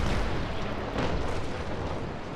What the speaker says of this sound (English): let's try and use our rear cannons.